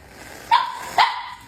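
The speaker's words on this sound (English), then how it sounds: "This is an instant bark noise." Pet dogs in a home kitchen let out two sharp, close barks about half a second apart, with quiet room tone around them.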